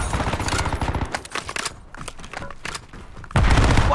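Bursts of automatic gunfire from Call of Duty Warzone, loud and close, with rapid rattling volleys, a few sparser shots in the middle, and a dense burst returning at the end.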